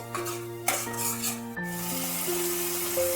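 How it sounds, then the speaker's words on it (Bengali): Garlic paste sautés in oil with a soft sizzle under sharp clinks and scrapes of a utensil stirring against the pan, several distinct knocks spaced irregularly over a short span. "অল্প পরিমাণে রসুন বাটা একটু কষতে হবে তেল ছেড়ে এলে"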